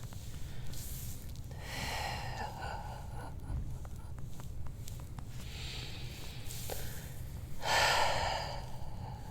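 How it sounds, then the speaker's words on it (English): During a chiropractic spine adjustment, a person gives several forceful exhalations, heavy breathy bursts spaced a few seconds apart. The last is the loudest, and all sit over a low steady hum. "I'm exhaling so that the ribs come together and he can get a deeper pressure level."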